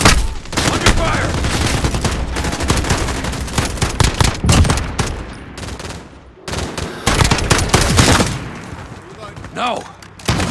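Heavy gunfire rattles through a Modern Warfare video game firefight, with dense bursts of automatic fire and sharp individual shots, loud and close, broken by brief lulls, while voices shout over the shooting.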